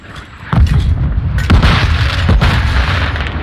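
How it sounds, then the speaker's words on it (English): A Semtex grenade goes off in Call of Duty: Modern Warfare II, a loud close blast with a deep rumbling boom, followed by further thuds and sustained roaring noise. "Throwing Semtex!"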